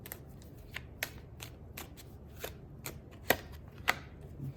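Tarot cards shuffled by hand during a reading, a run of crisp riffling snaps and soft slides repeating roughly every half second, close and fairly quiet, with two sharper slaps near the end and no talk.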